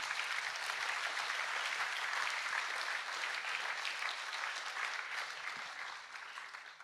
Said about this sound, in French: je pense que vous pouvez vous applaudir